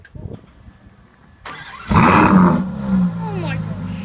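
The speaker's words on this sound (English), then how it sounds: "Now you'll be able to hear a startup of the car." A Ferrari F12 Berlinetta with Novitec N-Largo modifications cranks and fires up, a sudden loud roar after a short starter whir, then settling into a rumbling idle close by.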